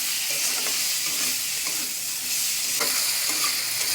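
Fried puti fish are tipped back into a pan and stirred, giving a loud steady sizzle with soft scraping strokes of the spatula, close and with no voices.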